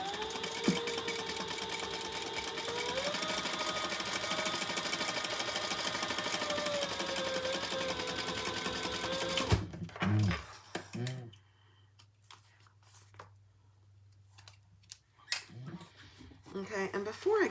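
A sewing machine runs steadily for about nine seconds as it stitches a leather sling, then stops, leaving quiet handling sounds and a few clicks as a voice talks.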